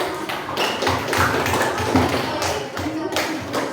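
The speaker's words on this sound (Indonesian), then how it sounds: "tepuk tangan dulu dong buat semuanya" A class of elementary school pupils at SDN 247 Sukapura claps together, producing a dense, continuous patter of hand claps close by, mixed with children's voices.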